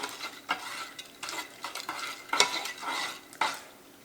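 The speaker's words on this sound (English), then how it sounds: "So now we're just going to kind of stir those together" A spoon stirs a distilled water mixture in a pot for homemade amaretto, making soft, irregular scraping and swishing strokes with occasional light clinks, close and fairly quiet.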